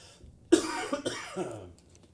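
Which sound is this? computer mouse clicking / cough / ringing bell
cough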